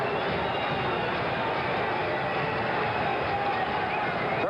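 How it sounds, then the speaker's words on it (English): Boxing arena crowd at a WBC title bout, a dense, steady roar of many voices with a rhythmic chanting swell, continuous and loud throughout with no clear single voice on top. "the crowd is really beginning to chant"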